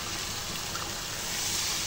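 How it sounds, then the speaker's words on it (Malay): Water pours into a cooking pot of fried spices and oil, a steady, close hiss and rush with no talking. "Kita masukkan air."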